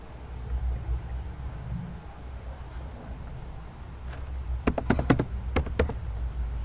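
Quick bursts of keystrokes on a computer keyboard while typing into MATLAB, starting after a quiet pause and clustered into a short, irregular flurry of close, sharp taps.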